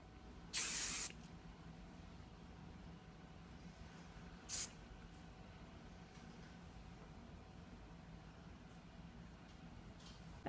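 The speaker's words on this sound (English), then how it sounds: "Then hit it with a good shot of hairspray all over to smooth out the flyaways." Hairspray is sprayed over hair in two hissing bursts, a longer one near the start and a short one a few seconds later, close and crisp against a quiet room.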